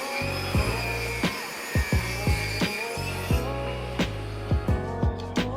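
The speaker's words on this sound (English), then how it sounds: "Over at the table saw, I took the rounded edges off the" A table saw rips the rounded edges off 2x4 lumber, a loud steady whine of the blade with repeated sharp bursts as the wood feeds through, several cuts in quick rhythm, close by.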